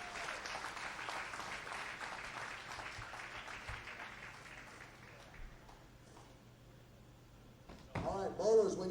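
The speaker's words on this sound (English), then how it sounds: "let's give these athletes a great round of applause as they begin their round of tournament competition." Audience applause for young athletes at a bowling tournament, a steady wash of clapping through most of the stretch that thins out, followed by a louder burst of sound near the end.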